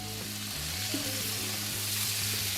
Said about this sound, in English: get that butter melted in that pan, and bring up that fond off that bottom of that pan